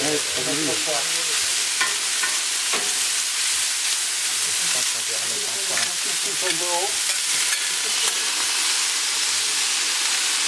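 Food frying in a pan gives a loud, steady sizzle and hiss that runs throughout, with stirring sounds and brief voices at times.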